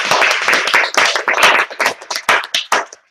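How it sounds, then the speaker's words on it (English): Meeting audience applauds for a tabletop host, a burst of close, crisp hand claps that thins to a few scattered claps and ends abruptly. "So let's big applause to our tabletop master."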